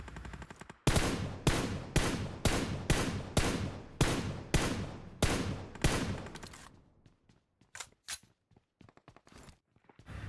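Rapid loud gunfire from a bot in a shooter video game: about a dozen evenly spaced, punchy shots over six seconds, then sparser, quieter clicks and scattered reports trailing off.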